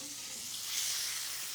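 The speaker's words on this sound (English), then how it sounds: "our fried Vidalia onion rings are frying" Vidalia onion rings frying in hot oil, a steady soft sizzle with a bright crackling hiss that swells slightly midway, heard alone without talk.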